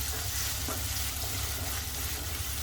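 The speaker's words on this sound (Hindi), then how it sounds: "प्याज को भून लेंगे पिंक होने तक, हल्का सा पिंक हो जाए।" Steady, dense sizzling of chopped onions frying in hot oil until lightly pink, close up, with faint stirring scrapes and no speech.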